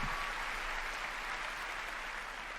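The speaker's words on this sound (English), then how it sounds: "Applause, please, for Marty Hugo and all of our presenters tonight" Sustained applause from the audience at the Bethesda E3 2019 conference, a dense even wash of clapping that holds steady throughout.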